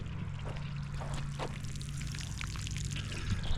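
Gravity-fed water pours out of a long garden hose, a steady close splashing gush with a low rumble underneath, running continuously without talk.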